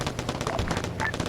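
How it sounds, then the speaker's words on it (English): Squads exchange gunfire in a video game, rapid bursts of shots crackling close together over a brief moment, with a few faint higher tones mixed in. "Now they're firing back and forth."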